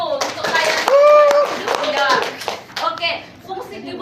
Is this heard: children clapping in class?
yes